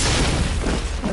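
A grenade goes off in the Mass Effect video game as a short, loud, dull boom with a broad rumbling wash, heard alone with no talk over it.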